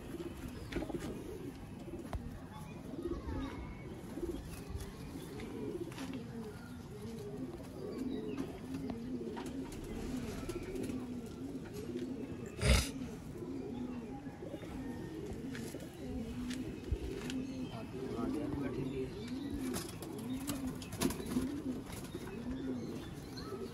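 Sialkoti pigeons coo in a loft, soft repeated throaty coos overlapping in a gentle continuous rhythm at close range, fairly quiet, with one brief sharp knock partway through.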